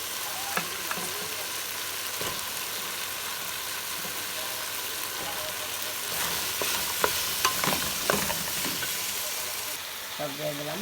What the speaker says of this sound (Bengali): লাড়া লোড়া দিয়া কষাইতেছি